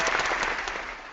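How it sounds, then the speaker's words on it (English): A short burst of canned applause triggered from a soundboard button, a dense wash of clapping that holds steady and slowly fades, with no voices. "I need to hit the applause button, Brad."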